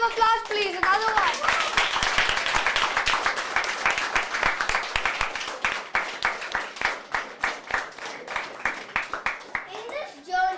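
Children and audience at a school event clap, starting as a dense burst of applause with voices, then thinning into sharp, rhythmic unison claps near the listener, with a voice heard at the start and end.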